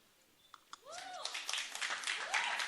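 Applause from a concert audience, starting after a couple of isolated claps and swelling into a steady, dense wash of many hands with some voices over it.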